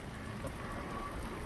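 Morning rain falls in a steady, even hiss of countless small drops on surfaces, faint and continuous without pauses or voices.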